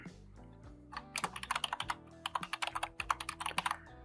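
Rapid close typing on a computer keyboard, a dense run of crisp key clicks after a brief pause at the start, with background music underneath and no talking.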